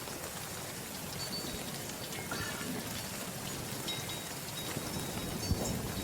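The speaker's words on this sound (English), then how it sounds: "When it is raining, you can actually hear a unique sound effect that mimics the rain falling on the brass." Rain patters steadily onto spent brass rounds in the first-person shooter Battlefield 1, a dense, even hiss of drops with faint pings, continuous and fairly quiet throughout.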